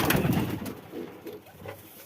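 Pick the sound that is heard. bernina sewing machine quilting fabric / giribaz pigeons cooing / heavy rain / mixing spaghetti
giribaz pigeons cooing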